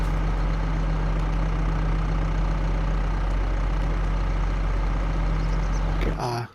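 A tractor engine idles with a steady, even rumble that drones on unchanged for several seconds, then cuts off abruptly at the end.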